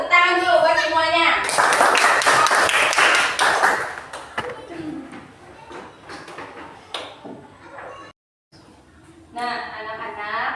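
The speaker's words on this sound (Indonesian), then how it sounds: "Tepuk tangan dulu buat semuanya." Schoolchildren in a classroom clap their hands for a couple of seconds, a loud burst of mixed claps and taps, with voices speaking before and after it.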